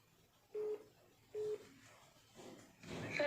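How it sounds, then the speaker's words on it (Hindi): Faint electronic phone ring in a quiet room, two short tonal bursts repeating about a second apart, followed by muffled noise near the end. "कोई फोन आ रहा है।"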